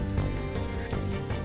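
Steady rain falls with a dense, close patter that stays even throughout the brief moment, with no voices over it.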